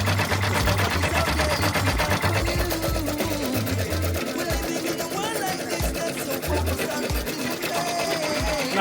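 A commercial embroidery machine stitching a design produces a steady, fast mechanical chatter of needle strokes, continuous and close throughout with a low thumping pulse underneath.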